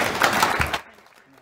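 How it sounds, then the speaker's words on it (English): Church audience at a Sunday family service applauding as a speaker takes her seat, a short dense burst of clapping that cuts off abruptly after under a second and leaves quiet room sound. "give Julia a big round of applause as she takes her seat"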